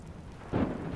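A rainstorm in the video game Minecraft: Story Mode, with a soft hiss of rain and a low rumble of thunder that swells halfway through, faint overall and with no voices.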